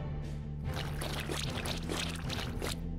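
Mud Cannon earth attack from the video game Monster Sanctuary, a gushing, pouring splash of sludge that swells and churns for a few seconds over a low steady game hum.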